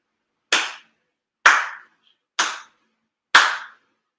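Four sharp hand claps, evenly spaced about a second apart, each crisp and close, made in unison at a monthly Tenchi Kane no Kami shrine ceremony with silence between them.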